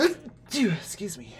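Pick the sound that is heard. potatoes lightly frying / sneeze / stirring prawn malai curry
sneeze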